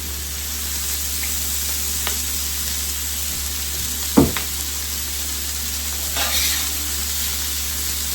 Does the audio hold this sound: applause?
no